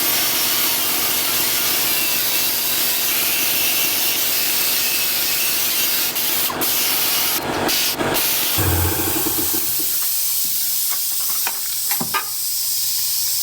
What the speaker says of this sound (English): That little pad that I was using on the die grinder was just a Scotch-Brite pad